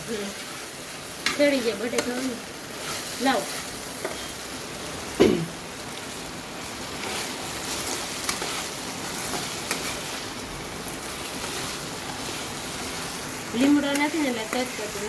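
Steady sizzling of flattened rice with potato frying in a pan for batata poha, with occasional scraping and stirring sounds and brief bits of talk now and then.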